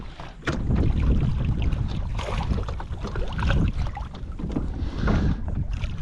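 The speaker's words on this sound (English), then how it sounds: "It's just this kayak moving around." Fishing kayak rocking on open water in Tampa Bay, a steady close wash of sloshing water and hull knocks with wind noise over the microphone.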